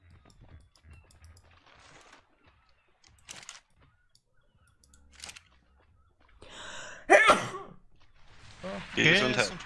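One loud, sudden sneeze bursts out after quieter room noise and faint movements, then voices follow closely.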